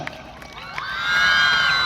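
Crowd cheering and whooping at a men's hockey World Cup trophy launch in Chennai, rising into a sustained loud roar of voices with high shouts after a quieter start.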